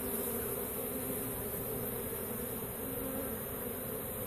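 Honeybee swarm clustered around its queen, a dense continuous buzzing hum close by and steady throughout, with no voices.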